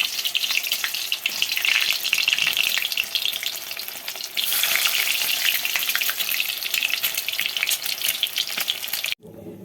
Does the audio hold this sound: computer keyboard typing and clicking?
no